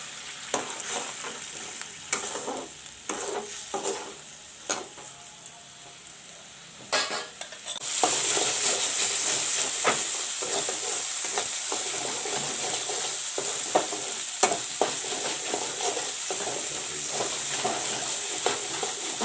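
A coriander, cumin and red chili paste fries with turmeric for a village-style cauliflower and potato curry. Scattered stirring clinks come first, then a strong, steady sizzle rises and holds beneath continued scraping, heard up close.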